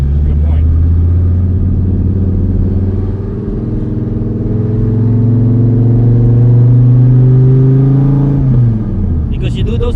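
A Dodge Viper engine revs loud and close during a ride, its smooth tone climbing steadily in pitch for several seconds before dropping off sharply on a shift near the end.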